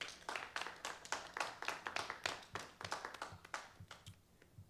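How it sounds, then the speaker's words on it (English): Audience at an Antioch, California city council meeting clapping steadily for several seconds, individual hand claps distinct and fairly close, a small crowd applauding alone with no talk. "I would like to give a round of applause for some of those that did come out tonight."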